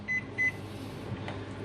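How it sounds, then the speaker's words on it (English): A kitchen microwave oven hums steadily while heating butter to melt it. The hum is close and continuous, with two short beeps near the start. "I'm going to microwave that for about 30 seconds."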